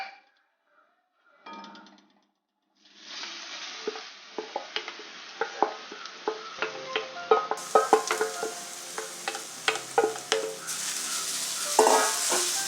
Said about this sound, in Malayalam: ആ നെയ്യിൽ തന്നെ നമ്മൾ ആപ്പിൾ, ക്യാരറ്റ് എല്ലാം ഇട്ട് കുറച്ച് നേരം ഫ്രൈ ചെയ്യണം